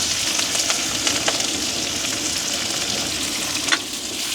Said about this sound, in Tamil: நல்லபடியாக பிராட்டி விடுவேன் வெங்காயம் பச்சை மிளகாய்